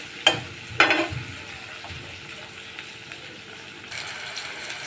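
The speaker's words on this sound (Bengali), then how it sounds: "জালটা মিডিয়াম আঁচে রেখে সিমগুলো ভাজতে হবে, তাহলে সিমগুলো খুব সুন্দরভাবে ভাজাও হয়ে যাবে আর সিদ্ধও হয়ে যাবে।" Flat beans (sim) fry in oil over medium heat, giving a soft continuous sizzle. Two sharp clattering stirs come near the start, and the frying swells slightly toward the end, with no voices.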